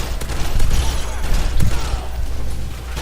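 Call of Duty: Modern Warfare 3 gunfire, sustained rumbling shots and explosions in a busy, dense battle mix with low booms throughout.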